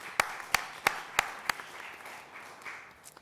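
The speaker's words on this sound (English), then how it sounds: "Give her a round of applause." A handful of sharp, evenly spaced hand claps at a San Diego Comic-Con 2024 panel, about five distinct strikes in quick succession that then trail off into a quiet room.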